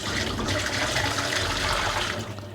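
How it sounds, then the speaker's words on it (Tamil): Strained whey from cooked paneer is poured out in a steady rushing stream of water that splashes continuously for a couple of seconds and then tapers off slightly. "அதை எடுத்து ஊற்றிட்டு வெளியில்"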